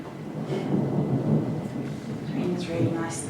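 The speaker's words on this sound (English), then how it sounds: "The rain is really nice though, it's well needed." Steady rain falls outside with low rumbling thunder rolling underneath, a dense, continuous wash of sound that stays even throughout.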